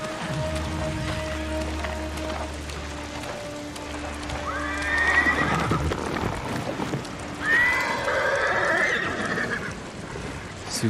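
Horse in the video game Ghost of Tsushima lets out two clear, drawn-out whinnies amid soft background ambience and a low steady hum, with faint hoof movement and no one speaking.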